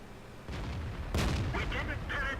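A tank gun round in World of Tanks strikes a KV-13 and fails to penetrate, producing a heavy broadband impact burst that rises sharply midway and rumbles on, with a brief muffled lead-in and a faint voice underneath.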